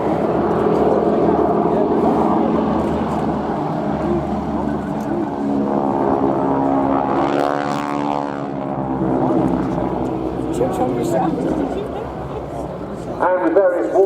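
Boeing Stearman biplane flying a wingwalking display at the RIAT 2016 airshow, its radial propeller engine droning steadily and rising in a swelling pass, while a voice talks over it the whole time.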